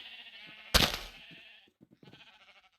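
Sheep in Minecraft bleat once loudly and close, then softer wavering bleats follow alongside faint footstep-like clicks, with no talking.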